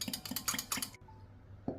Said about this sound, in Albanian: Përzijem mirë derisa pasta të tretet tek uji.